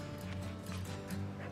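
A dog gives soft barks and whimpers over a steady hum of background noise, a few short yips standing out through the brief stretch.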